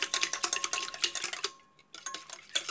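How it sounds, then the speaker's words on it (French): Eggs with a pinch of salt are whisked briskly in a bowl, a fast run of close, bright metallic clicks against the bowl, a brief pause, then the rapid clinking resumes, with no talk. "Je vais mélanger les œufs avec la pincée de sel"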